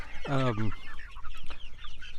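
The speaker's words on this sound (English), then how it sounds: "So these are the new pullets that we're raising out to be laying eggs in the spring" Young chickens (pullets) give a short, fairly loud cluck near the start, followed by softer chirps and peeps from other birds close by.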